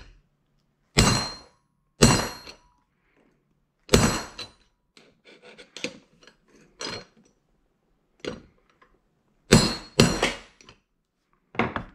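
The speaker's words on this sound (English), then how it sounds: "Chisel from the top here, and big old boy hammer like this." A heavy hammer strikes a chisel while removing rocker arm buttons, in sharp, ringing metallic blows, spaced unevenly, with quieter knocks and taps between the main hits.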